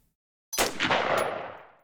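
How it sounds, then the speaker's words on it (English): A single loud gunshot rings out in the video game Final Fantasy VII Ever Crisis, a sudden sharp crack after a moment of silence that trails into a long echoing decay. "And then I heard a gunshot,"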